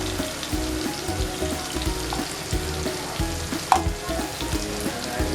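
Mushroom masala with kasuri methi and garam masala sizzles in a pan as it is sautéed, a steady frying hiss broken by repeated scraping stirs and one sharp clink of a utensil against the pan.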